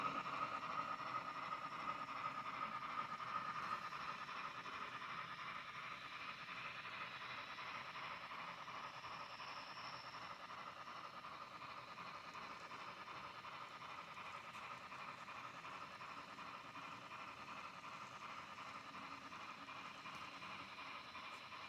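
A Broadway Limited N scale 4-6-2 light Pacific model locomotive hauls 20 cars up a 2% grade, giving a faint, continuous mechanical whir and hiss with a soft rhythmic chuff throughout.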